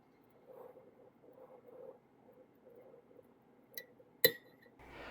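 Metal chopsticks stir sourdough starter in a glass jar, giving soft rhythmic scraping strokes, then a couple of sharp glassy clinks near the end, all quiet and close.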